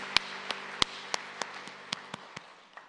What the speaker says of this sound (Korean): 우리 함께 감사의 박수 올려드립니다